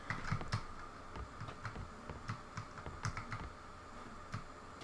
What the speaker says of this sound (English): I know the keyboard's gonna be making a lot of noise, but mechanical keyboards are kind of my thing